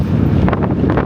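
Strong, cold wind buffets the microphone outdoors in Korea, a loud, steady roar and rumble with gusty surges and no voices.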